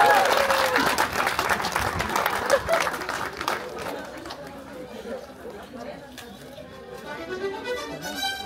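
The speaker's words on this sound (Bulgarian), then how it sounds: "Аплодисменти за Борислава." Wedding guests at a church wedding clap for one guest, steady applause with crowd chatter mixed in, gradually tapering off.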